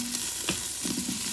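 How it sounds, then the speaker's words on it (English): Food fries in an Instant Pot Duo Nova 8 quart on its sauté setting, with a steady close hiss of sizzling and a few soft scraping stirs, no talking. "and it's sizzling nicely"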